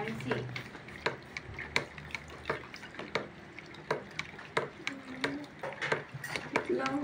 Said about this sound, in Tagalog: Haluin mo mabuti, boy.